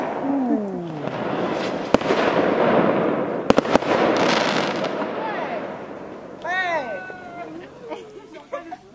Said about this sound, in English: there was a little firework display as well going on